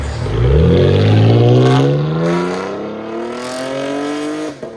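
A 2016 Chevy Camaro RS 3.6L V6 with X-pipe and Dynomax race bullet exhaust revs hard with a loud, raspy roar, pitch climbing steadily as it accelerates, close and powerful, no voices.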